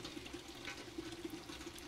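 Water poured to fill a container in a survival video game, a faint, steady liquid trickle and gurgle running the whole time with no talk over it.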